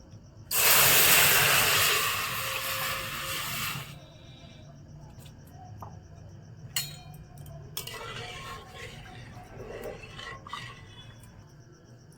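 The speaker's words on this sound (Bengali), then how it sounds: "তরমুজের রসটা এবার কড়াইতে ঢেলে একটু ফুটিয়ে নেব।" Watermelon juice is poured into a hot wok and hisses loudly for a few seconds, then settles into a quieter simmer broken by faint clinks and scrapes.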